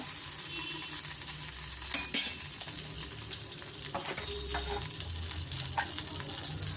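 Onion, spinach and ginger-garlic paste frying in butter for butter palak paneer gravy, giving a steady low sizzle with light stirring and a brief scrape near the middle.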